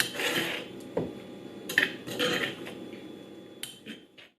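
A spoon scrapes blended Khmer fish paste (tirk kroeung) out of a blender into a bowl, giving a few close, separate scrapes and light clinks of utensil on container, with no talking.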